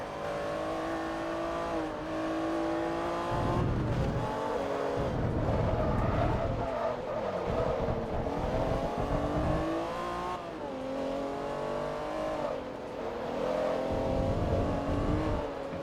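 A racing car engine from Forza Motorsport 3 revs and shifts through gears with rising and falling whines, loud and close, as it accelerates repeatedly across the lap.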